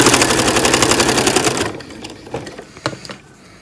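A sewing machine stitches a seam on a boxy kiss clasp purse, a fast rapid rattling run for over a second, then stops, leaving a few light clicks and handling knocks.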